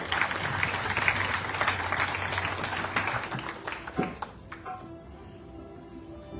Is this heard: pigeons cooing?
no